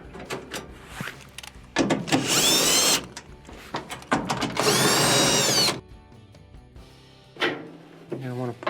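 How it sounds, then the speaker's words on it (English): A power driver backs out the quarter-inch screws holding the blower housing on a Whirlpool dryer that won't heat. Two loud, close, high whirring bursts of a few seconds each are separated by rattles, clunks and a voice talking between them. "you want to take your blower housing, remove the screws for that"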